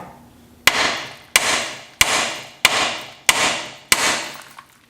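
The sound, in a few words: hammer hitting truck steering knuckle to free tie rod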